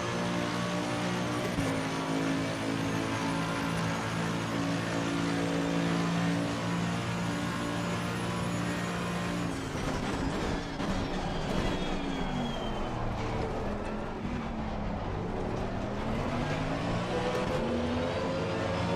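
Race car engines from a McLaren and a Mercedes in Assetto Corsa Competizione roar steadily throughout, with revving pitch sweeps and gear changes. The cars are loud and close, with no talk over them.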